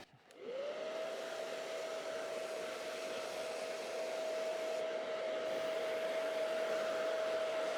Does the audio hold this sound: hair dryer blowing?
yes